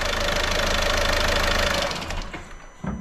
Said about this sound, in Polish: Powiem wam, brzydko ten silnik pracuje.